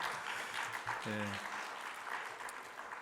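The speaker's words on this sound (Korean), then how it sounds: "감사의 박수를 다시 한번 하겠습니다" A congregation at a church youth service gives a round of thanks applause, a soft, diffuse patter heard at a distance, with a brief voice rising over it partway through.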